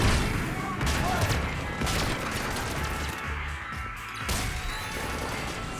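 Sustained bursts of gunfire and crashing impacts from a Mass Effect 3 battle, dense and continuous, mixed with game voices talking over the fighting.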